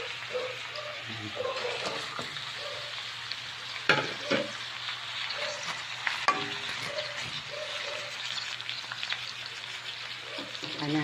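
Milkfish (bangus) fry in hot oil in a pan with a loud, steady sizzle and crackle, broken by occasional bursts of spatter and the clink of utensils.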